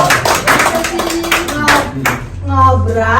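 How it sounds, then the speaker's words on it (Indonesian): A class in an Indonesian-language lesson breaks into a dense burst of clapping that fades after a couple of seconds, with voices chattering over and after it. "tepuk tangan untuk semuanya"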